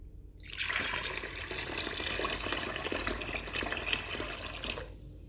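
Water poured steadily into a pot for orange marmalade, a continuous close splashing and trickling stream lasting about four seconds, starting and stopping abruptly, with no talk.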